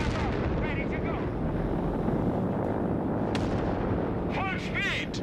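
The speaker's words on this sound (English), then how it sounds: "Nebelwerfer artillery ready." Nebelwerfer rocket artillery fires in the World War II strategy game Company of Heroes 3, a loud continuous roar of launches and blasts with rising whistles and a voice calling out near the end.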